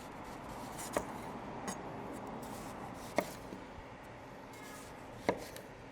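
A knife slices onions thinly on a cutting board, three sharp distinct cuts spaced about two seconds apart over a faint background hush.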